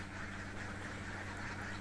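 Laying ducks quack in a dense, continuous flock chorus inside a dry-litter pen, loud and steady throughout with no talk.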